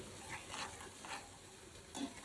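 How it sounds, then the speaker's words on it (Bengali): Raw onion frying in a pan, with a continuous close sizzle and crackle and soft bursts of stirring throughout. "কাঁচা পেঁয়াজ একটু ভুনে নেই"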